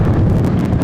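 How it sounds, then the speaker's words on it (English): Strong wind gusting across a microphone at Sydney Airport, a steady loud rumbling roar with no letup throughout. "That wind is quite strong."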